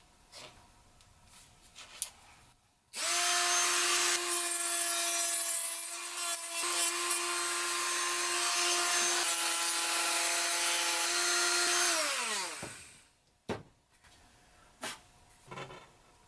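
A power sander fitted with new 80 grit sandpaper works a leather holster piece, starting abruptly and running loud and steady for about nine seconds before winding down, with a few quiet knocks before and after.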